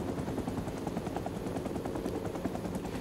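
A helicopter in the Rising Storm 2: Vietnam video game gives a loud, continuous rotor thump with a rapid, even chop throughout, heard from inside the aircraft.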